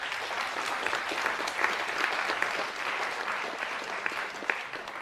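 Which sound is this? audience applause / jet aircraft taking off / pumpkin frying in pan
audience applause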